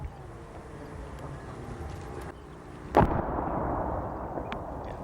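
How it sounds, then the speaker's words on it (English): An artillery shell bursting close to Saddam Hussein International Airport during the 2003 Iraq war, heard as a single sharp, loud blast followed by a lingering rumble after a stretch of low background noise. "That's the whine of an artillery shell landing pretty close to Saddam Hussein International Airport."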